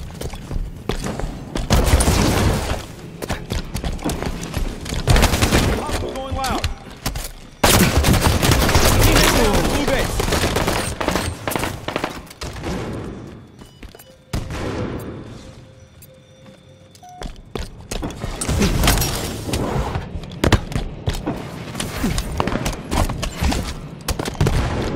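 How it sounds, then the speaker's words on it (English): Dense, loud bursts of rapid gunfire in a Halo 5: Guardians doubles match on the Eden map, repeating in long volleys with sharp cracks, a brief lull midway, then more heavy fire. "Hostile fire!"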